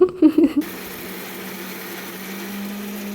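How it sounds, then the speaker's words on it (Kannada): A mixer grinder whirs steadily as it grinds washed mint and coriander, a loud continuous motor drone with a low hum that kicks in after a few brief bumps and holds to the end. "ಗ್ರೈಂಡ್ ಮಾಡೋಕ್ಕೆ ಸ್ಟಾರ್ಟ್ ಮಾಡಿದ್ರು"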